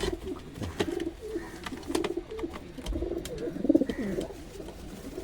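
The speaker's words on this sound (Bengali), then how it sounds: "পায়রাটা কত বড় সাইজ।" Large Chennai breed pigeons coo repeatedly nearby, their low throaty calls overlapping in an uneven rhythm with light rustling around them.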